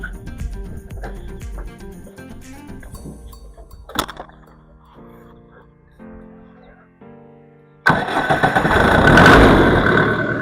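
An A11 agricultural tractor engine idles and revs in Benin, clattering with stops and uneven bursts before roaring up loudly near the end.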